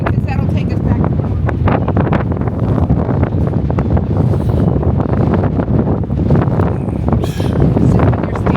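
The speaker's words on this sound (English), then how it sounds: "it's so windy you can literally feel it rocking" Strong gusting wind on an exposed mountain ledge in the Swiss Alps near Grindelwald, loud buffeting roar battering the microphone throughout.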